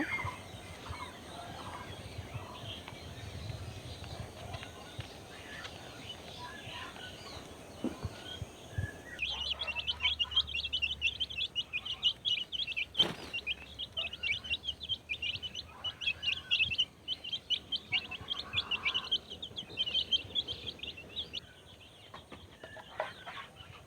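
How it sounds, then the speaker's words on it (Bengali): A yard full of ducks, chickens and pigeons: overlapping clucks, gobbling and chirping calls continue throughout, moderately close, with no talking. "আমার হাঁস মুরগি কবুতর সব"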